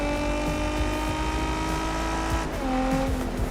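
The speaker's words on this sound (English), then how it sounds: "I love how the GTR sounds in this game too." A Nissan GT-R R35 races in the video game TDU Solar Crown, its engine a loud, sustained howl that rises in pitch and drops sharply as it shifts gear, with faint tyre noise underneath.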